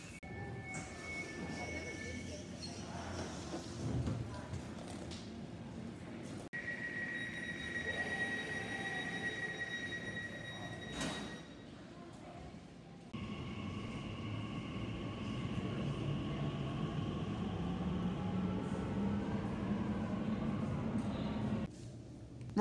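Smooth, steady rumble inside an Elizabeth line train in London, a continuous low hum and faint wheel noise with a few soft high tones, fairly quiet throughout with a brief dip midway.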